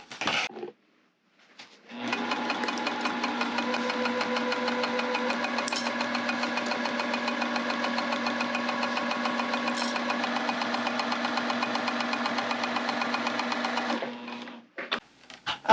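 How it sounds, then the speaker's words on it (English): A sewing machine stitches across the edge of a vinyl tote, a steady close mechanical whir that runs unbroken for about twelve seconds before stopping. "Now I'm going to sew all the way across this edge."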